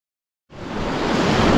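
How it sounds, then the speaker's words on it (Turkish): Steady, loud rushing roar of waterfalls in a valley of the Cilo Mountains, beginning abruptly after a moment of silence and continuing as a dense, unbroken wash of falling water. "Üç tane şelale var sanıyorum."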